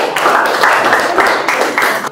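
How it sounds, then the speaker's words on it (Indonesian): Applause in a classroom-style teaching session fills the moment, a dense, steady patter of many hands clapping together that swells slightly in waves and holds at a fairly loud level throughout. "Kita kasih tepuk tangan"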